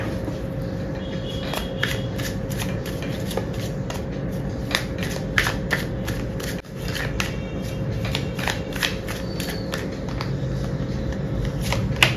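Tarot cards being shuffled by hand, a continuous close riffling and sliding of cards with rapid repeated flicks and a brief pause midway, no speech.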